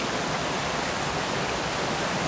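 Small waterfall beside the sea, a dense, continuous rushing of falling water, steady and fairly loud with no other sounds.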